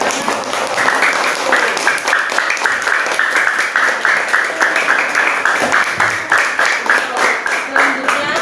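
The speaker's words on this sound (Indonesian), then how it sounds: "Beri tepuk tangan." A classroom group gives a presenting group a round of applause, dense continuous clapping from many hands, close and loud, with voices mixed into the sound throughout.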